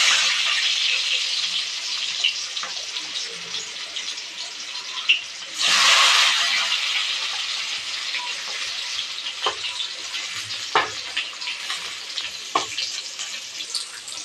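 Chopped onion and crushed garlic frying in a pan, a steady broad sizzle throughout with a louder hissing burst near the middle as more goes in, plus occasional light clicks of stirring.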